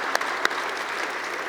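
A church congregation claps during a Korean ordination service, a brief burst of dense, steady applause from many people with a couple of sharper claps standing out near the start.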